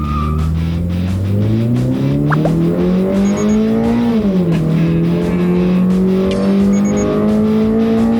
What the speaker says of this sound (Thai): ทดสอบอัตราเร่งนะรู้ว่าการเร่งของรถเราเนี่ยเป็นยังไงบ้าง